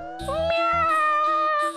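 A lion in a Hindi mythological TV serial voiced with a cat's meow: a drawn-out, wavering meow rising and holding, with a few soft thumps beneath at the start.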